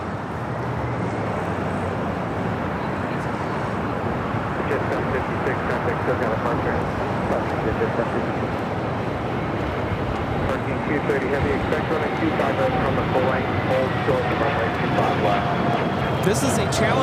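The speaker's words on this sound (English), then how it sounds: "This is a Challenger 350 taking off with NetJets 756." A Challenger 350 business jet of NetJets takes off at LAX with a steady, broad engine roar that holds loud throughout, and a faint rising whine threads through the wash of noise.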